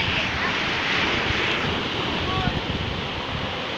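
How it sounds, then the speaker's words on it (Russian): Ocean surf breaks against a rocky coastline near a cleft in the rock, a steady, dense wash of water and spray. Wind buffets the microphone throughout. "А, какие здесь волны классные."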